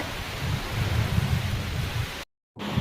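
Heavy rain pours down in strong wind at the foothills of Kolli Hills, a dense, steady roar with low rumbling gusts that cuts out abruptly for a moment before resuming.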